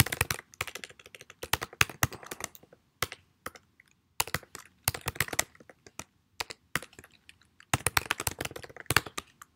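Bursts of rapid, crisp keystrokes on a computer keyboard, close and clear, with short pauses between runs of typing.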